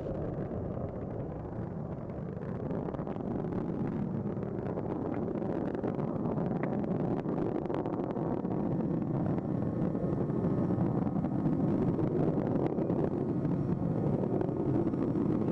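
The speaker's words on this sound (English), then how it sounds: "Engines now revving up, standing by for the throttle up call." Space shuttle Atlantis's main engines roar during launch, heard as a continuous deep, distant rumble with wind-like broadband noise that holds steady and slowly builds.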